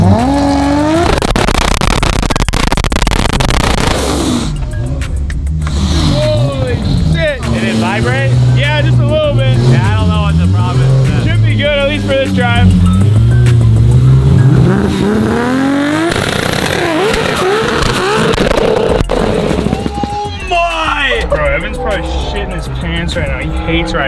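A Toyota Supra Mark IV accelerates hard, its engine roaring loudly and rising through the revs close by inside the car, while people talk and exclaim over the noise.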